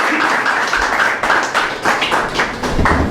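A congregation gives hearty applause at an Urdu-language church service, loud, close and continuous clapping with uneven bursts and some irregular louder slaps mixed into the steady clatter.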